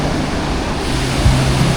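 Ocean waves washing onto a beach on the road toward Bengkulu in Lampung, a loud, steady broadband roar of surf with a low rumble underneath and no voices.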